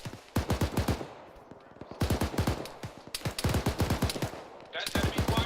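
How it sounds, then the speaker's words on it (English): Enemy small-arms and machine-gun fire rattles during a field training exercise, with rapid bursts of sharp shots coming in several rhythmic volleys, separated by short gaps and fairly close. "That's enemy fire from our north."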